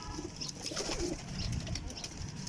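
Faint, low cooing from young high-flying pigeons being handled in a loft, a soft murmur with light rustling throughout and no speech.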